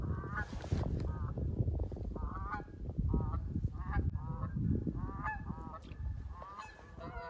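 Geese and ducks honk and call repeatedly while flying over a spring fishing spot in Newfoundland. The calls are loud, overlapping and irregular over low rumbling wind and water noise.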